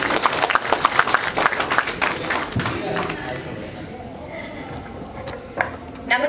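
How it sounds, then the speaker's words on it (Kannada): Audience at a Kannada film launch event claps in a dense burst of applause that fades after a few seconds, with crowd murmur and talk continuing underneath. "with huge round of applause, ಜೋರಾದ ಚಪ್ಪಾಳೆಗಳು"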